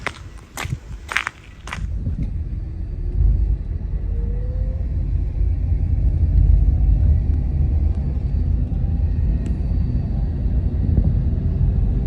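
A car, parked in the shade, pulling away: a few sharp knocks at first, then a steady low engine rumble and road noise that builds slightly and holds, close and fairly loud, with no talking.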